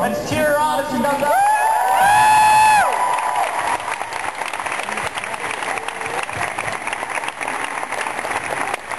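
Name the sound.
audience cheering and applauding as a fan comes up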